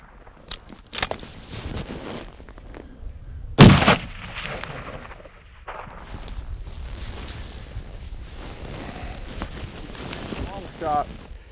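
A single loud rifle shot cracks out outdoors while hunting mule deer in open country, standing out sharply against wind noise on the microphone, with people talking quietly before and after.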